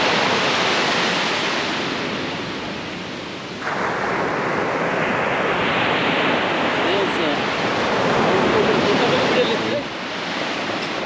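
Ocean surf rolls onto a Long Island beach in a steady, loud roar of broad noise, with a wave swelling and breaking midway and washing on until the end.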